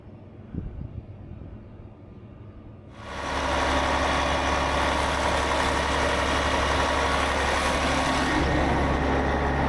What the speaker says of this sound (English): Once we cranked the coach up and ran it for a few seconds